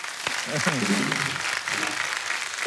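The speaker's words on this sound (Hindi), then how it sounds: "एक बार जोरदार ताली हो जाए जरा।" A studio audience at a comedy show applauds, giving a dense, sustained burst of clapping with some cheering and voices mixed into it.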